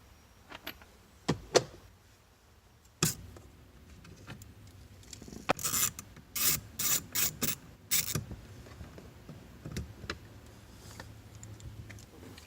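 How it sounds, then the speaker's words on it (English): A T15 driver backs small screws out of the cabin air filter box on a 2014 or newer Chevrolet Silverado, Tahoe or Suburban, heard as scattered close clicks, taps and short plastic rattles with quiet gaps between them. "we're going to be using a T15 to remove these little screws here"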